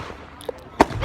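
Bonfire night fireworks outdoors, a faint pop followed by a sharper, louder crack a moment later against a quiet background, with a hint of nearby voice at the end.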